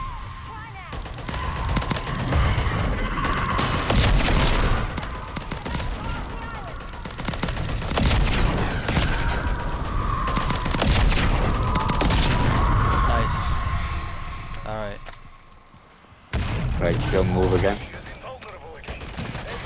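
Rapid gunfire from MW3 Zombies fills the stretch, with sustained automatic bursts and heavy booms stacked over one another, loud and continuous, briefly dipping near the end before firing resumes, with excited players talking over the shooting.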